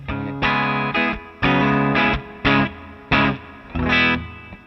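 A clean electric guitar, a Vigier GV Wood through an amp simulator, strums a series of chords, each ringing briefly before stopping, in a steady rhythmic pattern with short gaps between.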